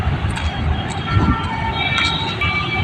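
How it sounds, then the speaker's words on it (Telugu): A metro train passes by outdoors with a steady rumbling roar and faint high tonal whine, continuous and fairly loud throughout. "మెట్రో పోతుంది పోతుంది పోతుంది పోతుంది"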